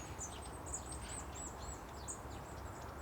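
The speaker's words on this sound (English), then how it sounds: "listen to all of the birds" Birds singing outdoors, a scatter of thin high chirps and short whistled calls repeating over a constant low background hiss, faint and somewhat distant, with no one speaking.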